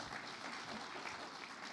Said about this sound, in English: a round of applause for our guests today